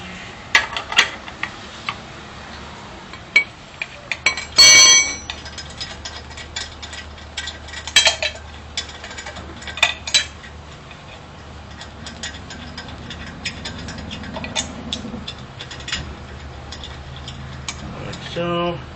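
Lug nuts on a 2005 Mercedes C230 Kompressor Sport wheel are loosened with a ratchet, producing bursts of rapid clicking pawl ticks and metallic clanks, close and fairly loud, broken by short pauses and a few tool knocks.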